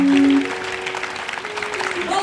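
A church convention congregation claps together for the Lord, a dense mid-level patter of hands that carries on steadily beneath a sustained voice and tone at the start.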